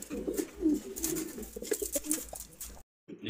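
Racer pigeons, including a red checker, coo in a low, steady murmur close by. The sound is soft and continuous with a few brief chirps, then stops near the end.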